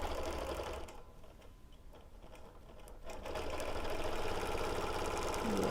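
Domestic sewing machine doing free-motion ruler work on a quilt, stitching in the ditch; a steady fast motor whir that slows briefly midway, then resumes at full speed, close and alone.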